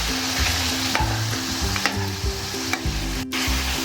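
Chicken fries in a pot of oil while being stirred, making a loud, continuous sizzle close up, broken by scraping stir strokes, with no talk.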